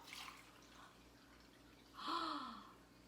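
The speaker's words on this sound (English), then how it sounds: "Let's see if I pour it in here." Water poured from one container into a small cup, a short splashing pour rising briefly and then tapering off, fairly faint and alone.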